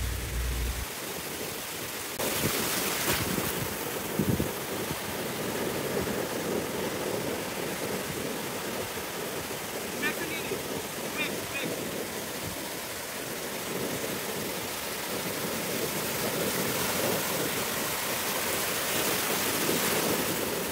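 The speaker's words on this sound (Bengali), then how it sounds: "এত উত্তাল সমুদ্র আর এত সুন্দর সেখানে আওয়াজ" Rough sea surf at Majorda Beach in South Goa roars as a continuous loud wash of breaking waves, with a heavy gust near the start and no voices.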